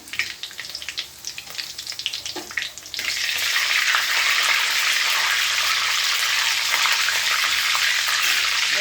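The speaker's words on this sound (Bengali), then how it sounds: "তেল গরম হয়ে গেছে, আস্ত গরম মশলা তেজপাতা আর জিরে ফোড়ন দিয়ে দিলাম।" Whole garam masala, bay leaf and cumin seeds sizzle in hot oil, with a few scattered crackles at first before the frying swells into a loud, steady, close hiss.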